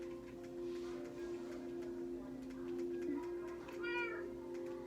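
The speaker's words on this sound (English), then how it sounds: "And then we have a baby cat." Minecraft cats meow in the game, a couple of thin, clear mews with a louder one near the end, over a steady droning in-game background hum.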